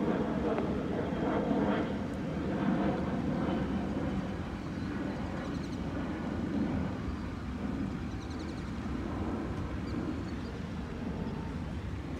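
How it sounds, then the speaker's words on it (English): An airplane flies overhead in Dallas, Texas, during the 2024 solar eclipse. Its engine drone stays steady and moderately distant throughout, with quiet voices of onlookers mixed in. "A plane's flying right there too."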